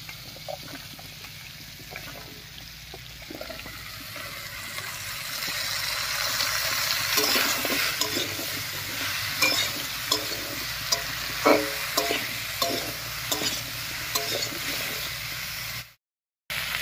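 Vegetables sizzling in a hot pan as they are cooked, with a steady frying hiss that grows louder midway and repeated scraping stir strokes on top, then a brief cut to silence near the end.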